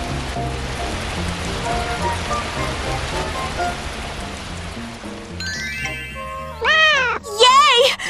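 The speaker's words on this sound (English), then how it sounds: "Rainy day." Steady rainfall patters on surfaces in a children's animated survival story, a dense, even hiss that fades as voices and a cat-like meow rise near the end.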